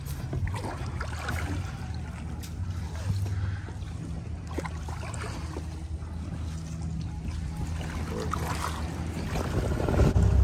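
A boat heads out of University Cove toward Fort Lauderdale, its engine a steady low rumble mixed with wind buffeting and water wash, growing slightly louder toward the end.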